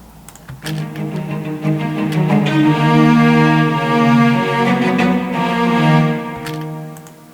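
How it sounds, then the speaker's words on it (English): A solo cello section from a composed orchestral intro jingle plays back as a sustained, swelling phrase of several held notes lasting about seven seconds, with no talking over it. "Maybe we can hear the cellos on its own."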